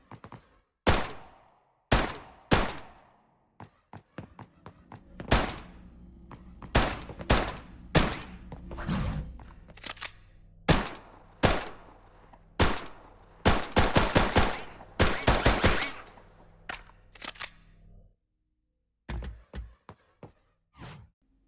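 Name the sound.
gunshots with environment-based tails, Lyra shooter video game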